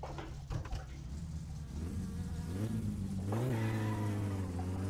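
An old car pulls away on a test drive through city streets, its engine droning and rising in pitch as it accelerates, steady and close, with a shift near the middle and no talk.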